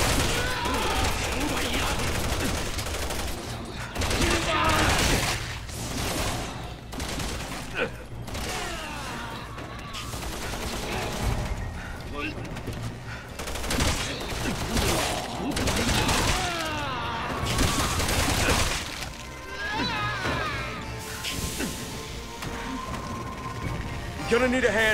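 Sustained gunfire from Resident Evil 6 during Chris's campaign, with dense rapid bursts and sharp shots going on throughout, loud and continuous, with voices talking over the shooting.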